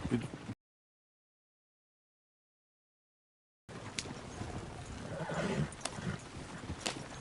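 Horse sounds in the video game Red Dead Redemption II over a rough outdoor bed: faint hoof clatter and snorting, a gap of silence, then sharper clicks and a muffled whinny-like cry.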